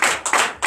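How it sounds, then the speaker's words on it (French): Claps ring out in a church service, three loud, close bursts less than a second apart. "Donnez l'acclamation à Jésus."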